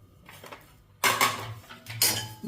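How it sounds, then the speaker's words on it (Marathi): Grated coconut dry-roasting in a kadhai with no oil, a metal spatula scraping and clattering against the pan in two loud bursts after a quieter, softer stretch. "आता कढईमध्ये किसलेलं खोबरं घालून छान भाजून घ्यायचं आहे"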